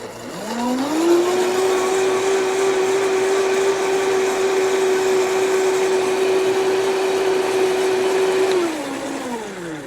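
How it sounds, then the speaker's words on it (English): A countertop blender whirring through a nutritional yeast sauce, spinning up to a loud, steady high-pitched drone that holds for about eight seconds before winding down, close and alone. "So I'm going to put this in the blender."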